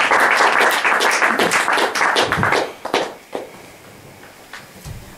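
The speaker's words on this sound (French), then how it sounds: "Applaudissements," An audience at a talk about home care work gives a short burst of applause, loud and close at first, then tapering into a few scattered claps and small thumps before falling quiet.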